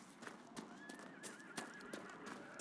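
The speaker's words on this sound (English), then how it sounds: "Mount the horse at the stables." Horse whinnying with a rising tonal call over steady clip-clop hoofbeats in Dragon Age Inquisition, the mount at a stables, game sounds fairly close with no talk.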